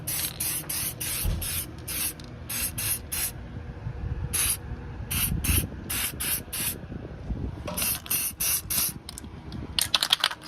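Repeated short bursts of aerosol spray from a can of Amsoil HD Metal Protector rust undercoating, applied close up to a new car's suspension arm and ABS area, with hiss pulses separated by brief pauses over low background rumble.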